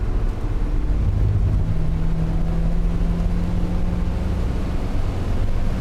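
A Mazda MX-5 laps the Nürburgring Nordschleife, its engine a steady, close drone that holds a nearly constant pitch throughout, with no voices.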